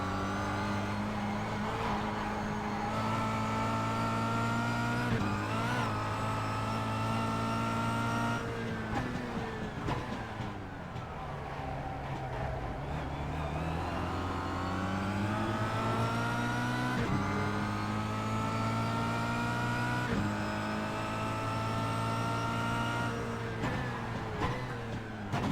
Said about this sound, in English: Just dropped the gear too many there, dropped it in the first, nearly blew the engine, but managed to get straight back in the second.